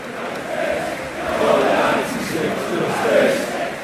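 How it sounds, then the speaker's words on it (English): A dense stadium crowd before a Liverpool match roars and claps in a broad, continuous wash of noise that swells and ebbs, loud and surrounding, with no single voice standing out. "please now raise your cards as we begin a period of applause"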